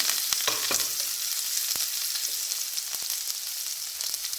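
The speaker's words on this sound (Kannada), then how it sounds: "ಬಿಸಿ ಆದಮೇಲೆ ಸಾಸಿವೆ, ಆವಾಗಲೇ ತೋರಿಸಿದ್ನಲ್ಲ ಈರುಳ್ಳಿ, ಬೆಳ್ಳುಳ್ಳಿ, ಮೆಣಸಿನ್ಕಾಯಿ, ಕರಿಬೇವು ಅಷ್ಟನ್ನು ಅದಕ್ಕೆ ಹಾಕಬೇಕು" Mustard seeds, onion, garlic, green chili and curry leaves sizzle in hot oil as a Karnataka bassaru tempering, giving a steady, dense frying crackle with a few sharper pops throughout.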